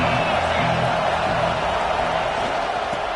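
A stadium crowd roars steadily throughout an Eagles football game, a dense, loud wash of cheering and voices with no break.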